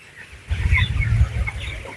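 A sick chicken with chronic respiratory disease, in a fully automated broiler house, clucks with a rough, rattling quality in a dense burst after half a second of quiet, close and fairly loud.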